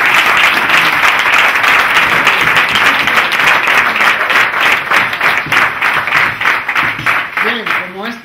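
Audience applause at a sports club's Christmas gathering, sustained loud clapping from a crowd lasting several seconds and thinning toward the end, with a voice briefly audible at the close.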